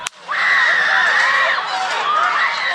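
Panicked crowd at a Trump campaign rally after gunshots, with sustained high-pitched screams and shrieks from many people at once, loud and close, continuing without letup.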